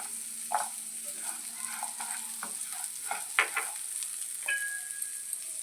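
Cumin and garlic cloves fry in a little oil for coconut chutney, a soft steady sizzle punctuated by clinks and scrapes of a stirring spoon, fairly quiet and close.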